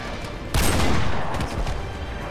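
Gunfire in Call of Duty: Modern Warfare: a single loud burst of shots cracks at the half-second mark, then fades into a lingering rumble with a few quieter follow-up reports.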